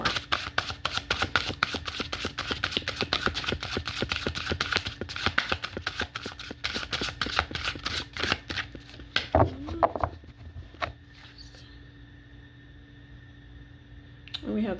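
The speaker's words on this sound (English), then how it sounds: "Shuffle one more." Tarot cards riffle and slap rapidly in repeated bursts of crisp clicks, close by, then the shuffling stops and a few faint taps follow.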